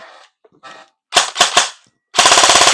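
A metal-bodied E&C SIG MCX Rattler electric airsoft gun fires, first a few quick separate shots and then a rapid full-auto burst of about a dozen rounds, loud and close, with brief soft mechanical clicks before the shots.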